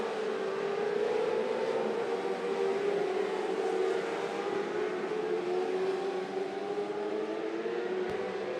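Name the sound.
600R mini sprint cars racing in heat race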